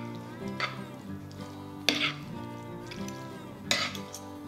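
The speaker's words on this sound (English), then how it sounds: "And then once again, we're just gonna give it a mix." A spoon stirs vegan pasta with basil, parsley and coriander in a pan, making soft scraping and sizzling with three sharp clinks of utensil on pan at regular intervals, fairly quiet and close.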